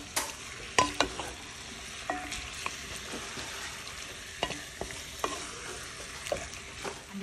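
Chicken wings being stirred in a cooking pot, with a steady low sizzle under a series of sharp scraping and clinking strokes spaced irregularly throughout, close and moderately quiet, no talking.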